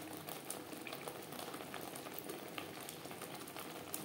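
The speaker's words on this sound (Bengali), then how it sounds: "কাঁচা গন্ধ যাওয়া পর্যন্ত নাড়াচাড়া করে নেব" Spices stir-frying in a pan for a pomfret fish curry give a steady, dense sizzle with a bubbling, boiling-like texture. It runs continuously at moderate level and no one speaks.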